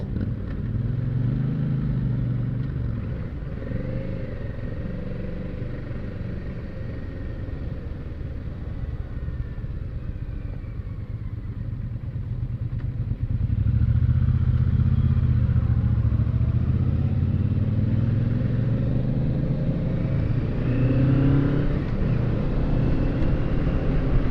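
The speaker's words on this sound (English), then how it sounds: "It's a very responsive engine for sure." A small motorcycle engine runs steadily at idle, then rumbles louder and fuller as the throttle is opened partway through, a continuous close mechanical drone with no talk over it.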